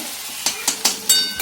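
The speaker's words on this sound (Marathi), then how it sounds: "जे आपण मीठ मिरची लसूण चांगलं ठेचून घेतलं होतं ते परतून घ्यायचं" Crushed salt, green chili and garlic sautéed in a pan with cumin and mustard seeds, a sizzling bed cut by four quick scraping stirs in a short loud burst.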